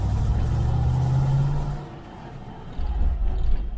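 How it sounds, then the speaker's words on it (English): A 1971 Range Rover engine revs with a noisy exhaust, a loud low rumble that rises and holds, drops away briefly, then surges again up close. "Exhaust is a lot noisier than it is on mine."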